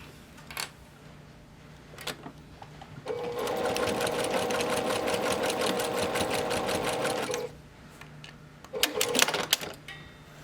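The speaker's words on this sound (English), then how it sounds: "So I'm going to go ahead and stitch over this with about 1/8 of an inch seam allowance" A sewing machine runs in one steady burst of about four seconds, stitching a fabric face mask keychain case with a 1/8 inch seam, with a few short clicks and handling sounds before and after.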